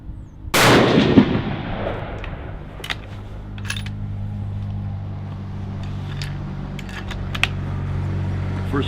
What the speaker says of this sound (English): shoot a couple of groups of the Hornady before I go.